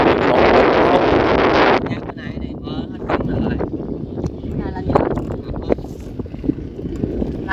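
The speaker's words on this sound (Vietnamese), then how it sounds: "Gió này." Strong wind from a storm gusts over a flooded river while riding in a boat, loud buffeting microphone roar at first, then easing into lighter gusts and water sounds with a person talking throughout.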